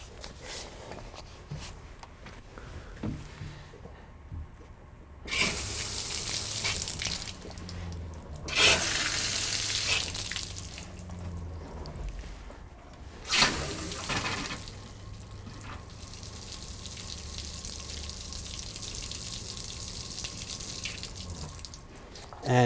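Water rushing from the plumbing lines of a Pleasure-Way motorhome as antifreeze is flushed out, several bursts of flow opening and closing, steady hiss of running water between them.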